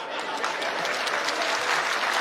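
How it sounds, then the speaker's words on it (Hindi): Audience at a political rally in Khajuraho, addressed by a Union minister, claps steadily and densely throughout, a continuous close wash of applause with no clear voices on top. "मेरी महिलाएं तो तालियां बजा रही है,"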